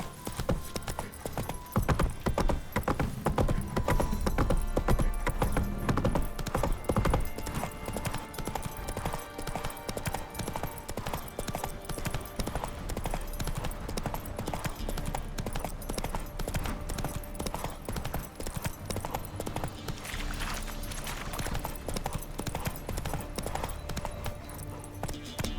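The horse Roach gallops in The Witcher 3, its hooves drumming in a fast, steady clip-clop rhythm for the whole stretch, loud and close over background game music, with an occasional faint whinny.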